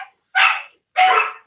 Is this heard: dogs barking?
yes